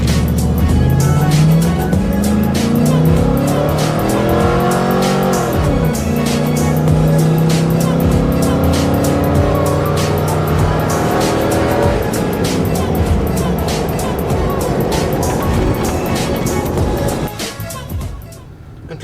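A lifted gas truck's engine roars as it accelerates hard from a stop, the pitch climbing through several gear shifts in a sustained loud pull from inside the cab, then tapering off near the end.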